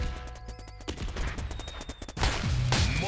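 Mortar and gunfire in a 2v2 community tournament video game match, a dense run of explosive bursts and rapid shots rolling on continuously, loud and close, with a heavier burst of blasts near the end.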